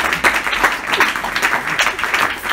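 Church congregation applauding together during a French-language sermon, a steady wash of many hands clapping at close range for a few seconds with no talk over it.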